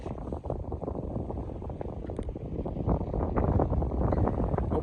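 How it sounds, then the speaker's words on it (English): Wind blows outdoors across the microphone, producing a continuous loud buffeting rumble that swells slightly toward the end. "And it is windy, of course."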